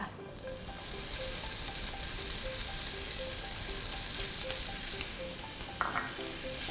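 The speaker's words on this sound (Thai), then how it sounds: "นำกระทะตั้งไฟใส่น้ำมัน แล้วก็ใส่เบคอนลงไปค่ะ" Steady, dense sizzle of bacon frying in an oiled pan, continuous crackle throughout with a few brief clinks near the end.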